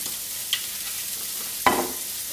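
Food frying in a pan over high heat with a little added oil, a steady bright sizzle broken by two quick scraping strokes of a stirring utensil.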